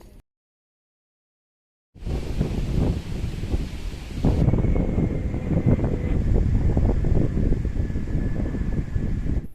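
About two seconds of silence, then strong, steady wind buffets the microphone with a deep, rumbling roar that continues to the end, while cycling in the Netherlands.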